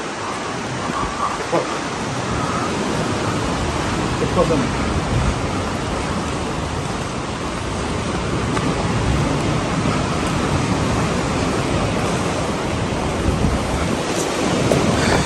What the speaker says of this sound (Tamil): That's coming water sound.